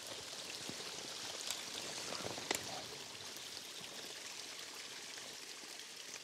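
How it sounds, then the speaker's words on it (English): Waterfall flowing into a backyard stream near a beach, a steady broadband rush of falling water, moderately close and continuous, with no talking. "I got a waterfall in my backyard and a beach."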